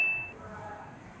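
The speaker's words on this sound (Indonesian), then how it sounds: "Ada yang kenal bunyi notifikasi apa itu tadi? Jawabannya adalah Tinder atau situs aplikasi kencan online" A short high electronic ping rings out for an instant, the Tinder dating app notification tone, then fades into a steady low background hum.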